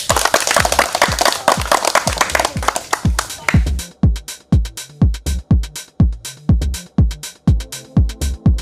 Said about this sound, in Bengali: হাততালি দেন সবাই।